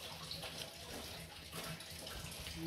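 Food being rinsed clean under running water, a faint continuous splashing and trickling with light handling sounds, steady throughout with no talking.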